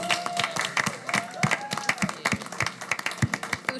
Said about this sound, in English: So we can clap for Hootie